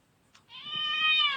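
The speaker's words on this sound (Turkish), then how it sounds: "Arabanın altına kedi giriyor ya" A cat hidden under a car lets out a single drawn-out, clear meow close by, preceded by a faint shuffle.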